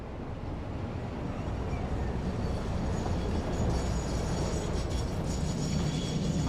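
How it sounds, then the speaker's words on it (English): Freight train pulling into a station in the Satisfactory video game, a continuous loud rolling rumble and clatter that builds slightly as it nears, no talk over it. "It should come winging around the end there. Yep. Here it comes now."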